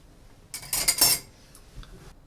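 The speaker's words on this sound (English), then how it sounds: "Slight gentle stir." A spoon gently stirs a bourbon and tea cocktail of Wild Turkey 101 in a glass, with a short run of light clinks and scrapes close up, then a faint final tap and quiet.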